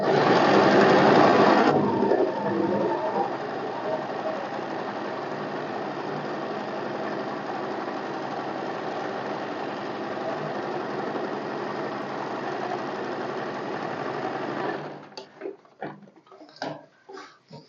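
A sewing machine runs continuously while stitching a zigzag line on fabric for a semi-Patiala salwar, a steady whirring mechanical hum that stops abruptly near the end, followed by brief handling clicks.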